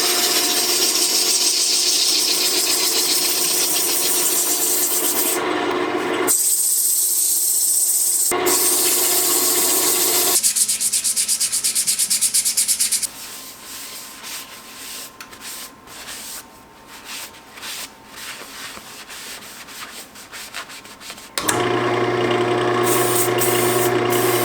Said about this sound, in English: I'm going to start sanding